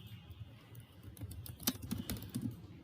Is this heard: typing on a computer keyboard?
yes